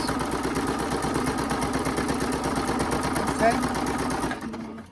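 A domestic sewing machine runs in a fast steady stitching chatter while binding an extra-large self-binding potholder, close and continuous before slowing and stopping near the end, with a voice talking over it.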